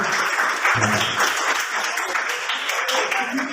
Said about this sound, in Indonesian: tepuk tangan buat kelompok ya